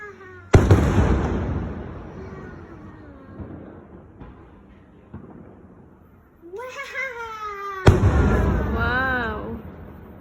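Fireworks at a feast day in Malta burst with two sharp, loud booms several seconds apart, each followed by crackling decay, while a cat meows in between and voices are heard nearby.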